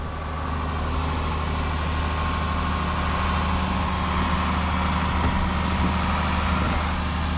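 Farm tractor pulling a corn planter and turning on a field corner, with a steady loud diesel engine drone and heavy low rumble that holds constant throughout.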